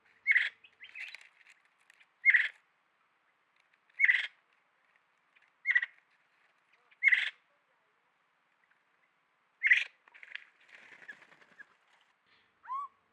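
Six sharp, loud greater racket-tailed drongo calls spaced a second or two apart at a rocky pool, followed by a softer, scratchy warble and one brief whistle at the end.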